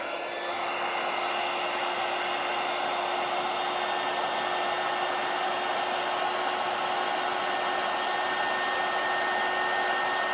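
A handheld heat tool blows continuously while heating a stamped image onto a candle, a steady, close, even whooshing drone with a faint tonal whine and no talking.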